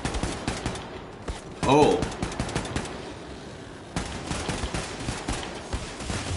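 Rapid automatic gunfire in Wolfenstein II: The New Colossus, played on a PS4 Pro, rattles in dense bursts with a sharper blast midway, while a player briefly exclaims over the shooting.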